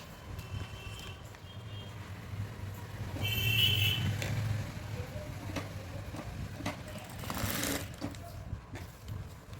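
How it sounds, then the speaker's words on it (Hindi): A sewing machine stitches buckram for a saree, its steady low motor hum running throughout with a louder burst of stitching in the middle, a few faint clicks and no talking. "अब हमें क्या करना है, बुकरम को सिलना है। और इस तरीके से हमें इनको सिलना है और इस तरीके से सिलाई लगा लेंगे।"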